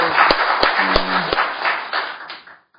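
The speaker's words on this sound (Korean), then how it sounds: "저도 박수 한번" Audience at a Korean public legislative hearing on a human rights bill clapping together, a dense burst of close hand claps with a few sharp louder claps near the start, tapering off and ending within about three seconds.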